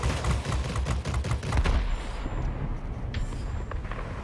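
A jet aircraft takes hits from shells during air combat in World of Warplanes, a dense, rapid burst of gunfire impacts, loud and close at first and then fading into a thinner rattle.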